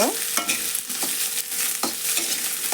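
Onions frying in a generous amount of oil until reddish for an onion chutney, with a steady close sizzle broken by several sharp scraping stirs.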